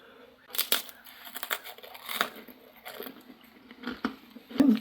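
Crackers from a Kazakhstan 24-hour military ration being bitten and chewed close up: irregular crisp crunches and crinkling bursts spread across a few seconds, with a louder crunch near the end and no talking.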